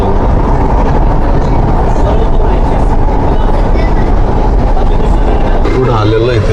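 Interior of a moving Pune Metro train, a loud steady rumble and rolling hum throughout, with faint voices in the carriage.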